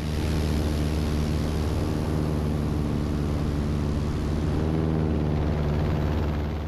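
A Bearhawk light aircraft, spinning to the right over a lake, gives a loud continuous droning engine and propeller hum with steady harmonics and rushing wind. The tone shifts slightly near the end, and no one speaks.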